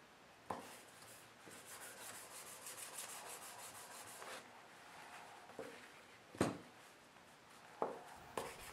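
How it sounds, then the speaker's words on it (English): Quiet rhythmic rubbing of a 320-grit sanding block across a wooden spatula handle in long strokes, punctuated by a few sharp knocks. "I'll go ahead and smooth everything out with a sanding block at 320 grit."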